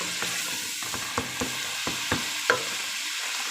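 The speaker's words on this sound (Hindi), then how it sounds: "मसाला भून रहा है माशाल्लाह से" Masala for malai chana fries in oil with a steady hiss, while a spoon scrapes and taps the pan in irregular knocks, close and clear.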